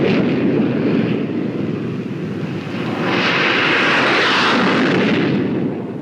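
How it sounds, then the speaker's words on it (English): A Gloster E.28/39, the first British gas-turbine aircraft, roars overhead in 1941 over English fields, a steady loud turbojet rumble and hiss that swells midway and holds without any talk. "It was 1941 when the sound of a turbojet was heard over English fields."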